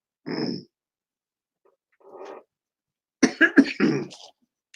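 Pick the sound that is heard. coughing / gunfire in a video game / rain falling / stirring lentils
coughing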